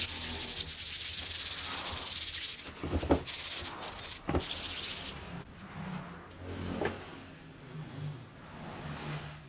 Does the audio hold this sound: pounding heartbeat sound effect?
no